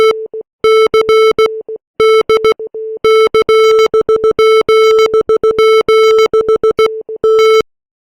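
Morse code rendering of Shostakovich's String Quartet No. 15 chords, made with a text-to-audio converter: a steady electronic tone keyed on and off in rapid dots and dashes, loud and clean, with short silent gaps between groups.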